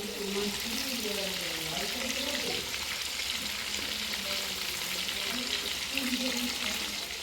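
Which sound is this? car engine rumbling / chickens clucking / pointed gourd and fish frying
pointed gourd and fish frying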